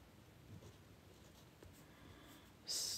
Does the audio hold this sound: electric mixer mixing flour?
no